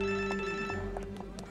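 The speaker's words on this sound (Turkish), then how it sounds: "telefon çalıyor telefon" An indoor telephone rings with a steady, repeating electronic tone that pulses through the whole short moment, fairly close and clear, with faint voices in the background.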